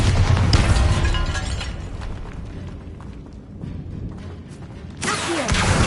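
A Bombarda blasting spell detonates in a Harry Potter video game, giving a loud, dense roar of explosive noise. The roar dips midway, then surges again with a sharp burst near the end.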